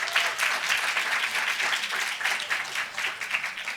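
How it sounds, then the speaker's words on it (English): Audience at a hip-hop talk event applauding, a dense steady wash of many hands clapping together for a few seconds. "Clap for yourself for coming out."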